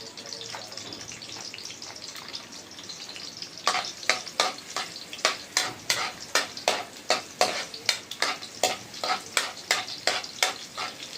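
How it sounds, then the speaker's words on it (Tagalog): Garlic sautés in hot oil in a pan, first as a quiet sizzle, then under quick, regular stirring strokes that scrape and tap in a steady rhythm, close by. "gisa na po tayo ng bawang. Lagay po tayo ng bawang."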